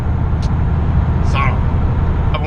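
Loud new tires on a pickup truck cruising on the highway around 55 mph, a constant low road roar and rumble inside the cab, with brief faint squeaks over it.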